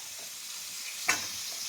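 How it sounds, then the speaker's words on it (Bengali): Catla fish pieces frying crisp in an oil-filled pan, a steady soft sizzle with one brief louder crackle or clatter partway through, no voices. "উল্টে নিয়ে একটু ভালো করে মচমচে করে ভেজে নেবো।"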